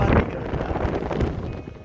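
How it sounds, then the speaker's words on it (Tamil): Wind gusting across the deck of a large ship at sea, a steady broadband rush with rumbling buffets, loud and close against the microphone throughout. "நான் வார நேரம் காத்தடிக்குது"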